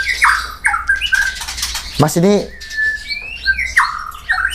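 White-rumped shama (murai batu) calling nearby, with sharp whistled phrases and squawking notes in quick bursts, while someone speaks briefly between the calls.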